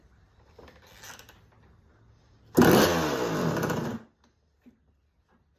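A Kawasaki KX125 dirt bike on choke fires up abruptly and runs with a loud, rough, buzzing two-stroke note for about a second and a half, then cuts out to near silence.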